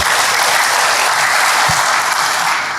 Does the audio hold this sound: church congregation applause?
yes